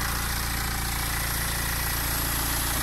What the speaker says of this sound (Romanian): Ce se aude zzz, e cureaua de la alternator